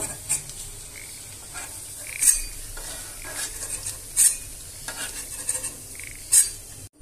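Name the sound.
cauliflower and chicken pakoras frying in hot oil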